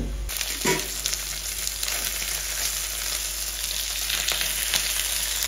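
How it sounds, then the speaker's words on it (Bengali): Three fish fry in hot oil with a continuous, even sizzle, close and fairly loud, plus a couple of soft clinks and stirring touches, with no voices. "3টা মাছ এবার একটু ভালো করে ভেজে নেব"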